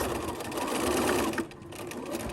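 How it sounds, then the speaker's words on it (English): A sewing machine stitches fabric for a body pillow, a close, rapid mechanical whirring that runs steadily and then eases off near the end. "I'm going to be careful to get my top stitches out of the way and sew all the way to the end."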